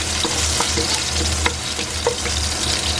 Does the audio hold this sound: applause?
no